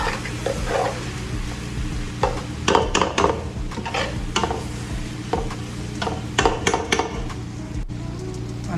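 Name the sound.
stirring chili, coriander and cumin powder into sizzling masala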